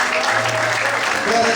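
A church congregation claps together in a dense, sustained burst of applause, loud and close, filling the short stretch without a break.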